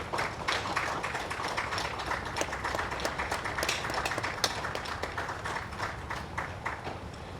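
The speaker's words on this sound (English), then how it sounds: "How about another round of applause for the class as a whole?" Audience applause at a police academy graduation ceremony, a dense steady wash of many hands clapping at moderate distance, sustained evenly for several seconds with no talk over it.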